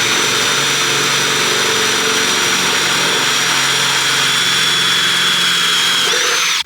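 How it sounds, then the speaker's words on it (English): A power drill bores holes into the rear of a Chevrolet S10 pickup truck bed, a loud, continuous high-pitched whine held steady close to the listener before it cuts off abruptly at the end. "First thing we're gonna do is actually drill the rear of the bed"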